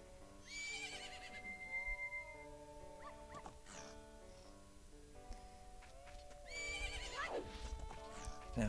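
A horse whinnies twice over music in The Legend of Zelda: Majora's Mask, with rhythmic hoofbeats; a second, louder neigh comes near the end.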